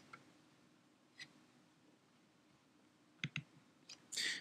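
A couple of quick, quiet computer mouse clicks on a website's Login button, with a few other faint ticks scattered over low room hum.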